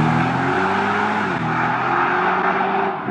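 An 850-hp Keyvany sports car pulls away from a standstill, its engine roaring loud and close with a steady, rising drone that fills the whole stretch without a break.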